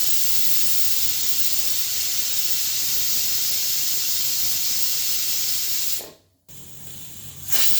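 Pressure cooker letting off a loud, steady whistle of hissing steam while chicken cooks. The hiss is constant for about six seconds, cuts out briefly, then returns.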